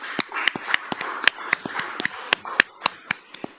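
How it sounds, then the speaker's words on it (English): Audience applauding teachers at a school committee meeting, a small group clapping with distinct sharp individual claps in a brisk, uneven rhythm, close and clear with no voices. "So we applaud you,"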